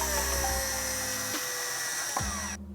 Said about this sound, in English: I'm going to drill it in